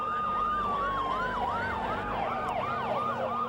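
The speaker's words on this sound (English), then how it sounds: "All you hear are sirens" Several emergency vehicle sirens wail at once on a New York street, overlapping rising and falling yelps and a steady tone, loud and close as they race past.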